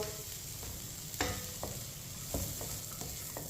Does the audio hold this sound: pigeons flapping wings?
no